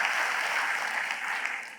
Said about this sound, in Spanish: ¿Qué le parece si le damos un aplauso a ellos